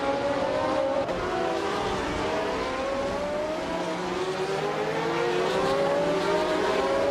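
A Lotus 72E race car engine screams in a racing video game, a loud continuous high-pitched whine with shifting harmonics as it accelerates through gears.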